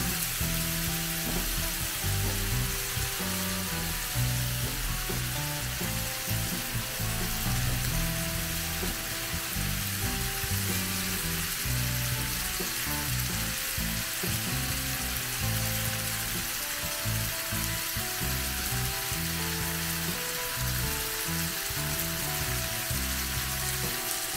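Fried prawns sizzle steadily in masala for a Bengali prawn roast, a continuous close, loud frying hiss with soft stirring scrapes throughout and no voices.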